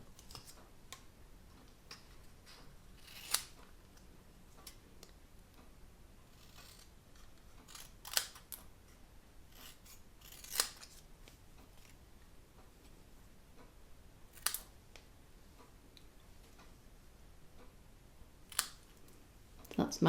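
Scissors snip out small paper Valentine shapes for a stamped card project, giving a few sharp, well-spaced clicks over quiet room noise, with faint voice in the background.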